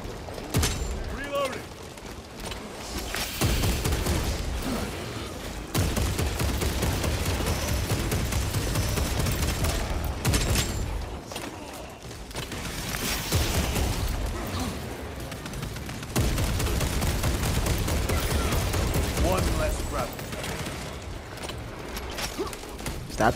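Gunfire and explosions from the video game Warhammer 40,000: Space Marine 2 roar in long loud bursts separated by short quieter gaps, with a player talking over the combat.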